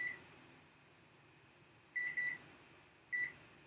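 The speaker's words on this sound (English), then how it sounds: "So I'm just going to set the timer here." A kitchen timer is set for pasta cooking and gives short electronic beeps: a quick run of three beeps, then a single beep a moment later, clear above a faint background hum.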